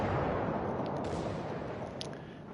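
Torpedoes strike a battleship in a naval combat game, a deep booming explosion that starts loud and slowly fades into a rumbling decay.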